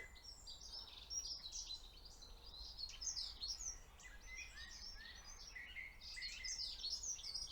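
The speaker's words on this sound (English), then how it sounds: "you've got a blackbird or a robin up there in the trees." Songbirds, a blackbird or robin, sing from trees along a path in Midhurst, with repeated bright chirps and warbled phrases coming steadily throughout over a quiet outdoor background.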